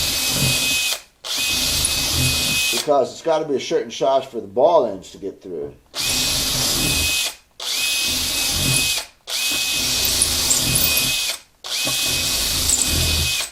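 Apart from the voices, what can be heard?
power drill reaming guitar bridge holes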